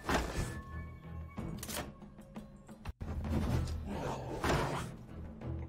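A catapult fires in the Might and Magic Heroes VII strategy video game, giving a few faint thunks and whooshing impacts in quick succession, separated by a short gap.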